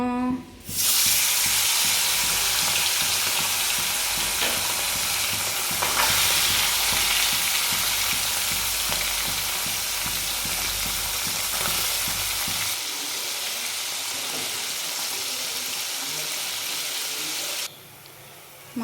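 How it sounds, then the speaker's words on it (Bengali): Loud, steady sizzling of fish frying in hot oil in a wok, a dense crackling hiss that carries on without pause, easing slightly toward the end. "মাছটা দিয়ে দিচ্ছি ভাজার জন্য"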